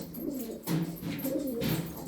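A red silver-tailed pigeon coos nearby in soft, throaty rolling phrases, two or three repeated calls over a quiet background.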